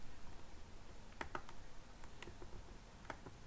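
Keys on a computer keyboard are tapped in short bursts as an address is typed in, with quiet clicks spaced irregularly over faint background hiss.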